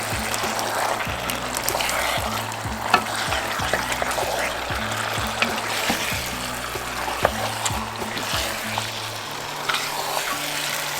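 Turkey wings fry and sizzle in brown stew gravy in a pot while being stirred, giving a steady bubbling hiss with intermittent scraping clicks of the spoon throughout.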